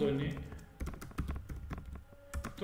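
Keys clatter on a computer keyboard in quick irregular bursts of taps, close and fairly quiet, following a brief stretch of talking at the start.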